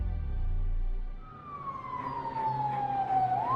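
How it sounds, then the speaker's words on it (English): Police sirens wail steadily at moderate volume with no talking, the tone sliding slowly downward and then turning back up at the end over a low rumble. "the sounds of sirens told Julie and Mark's neighbors something horrible had happened"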